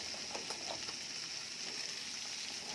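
Bitter gourd (ampalaya) sizzles steadily as it is sautéed in a pan, a faint, continuous frying crackle with a few brief stirring clinks and no talking.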